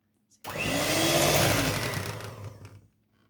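An electric mixer beats a dessert mixture, its motor switching on abruptly into a loud, steady whir that holds for about two seconds, then tails off and stops.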